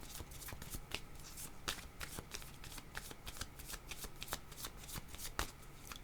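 Tarot cards being shuffled in the hands, a steady run of crisp riffles and papery slaps repeating through the whole stretch, close and moderately quiet with no talk.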